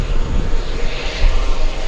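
Airliners taxiing at JFK airport produce a loud, continuous broadband engine roar with a deep rumble, steady and close throughout, with no talking.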